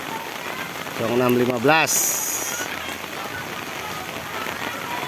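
Heavy rain pours steadily across a flooded village football field in Cisaat, Kuningan, a dense hiss that runs through the whole stretch while a voice speaks briefly over it near the start.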